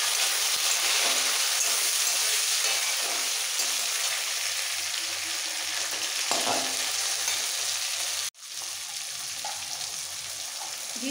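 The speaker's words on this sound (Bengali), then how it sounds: "পেঁয়াজে লাল হয়ে ভাজা হয়ে গেছে।" Onion and tomato frying in oil for a katla fish curry, giving a loud, continuous hiss of sizzling close by that cuts out briefly near the end before resuming.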